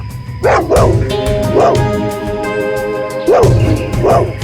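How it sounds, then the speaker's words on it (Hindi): A dog barks repeatedly in short yipping bursts, close and loud, with pauses between barks over a steady background hum. "बार बार उस तरफ मुंह करके भौंक क्यों रहा है"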